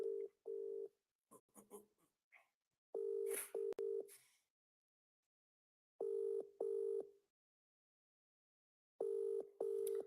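A telephone is dialed to call back a caller. Separate bursts of electronic tones come in short steady groups with silent gaps between them, clear and close, with no voices.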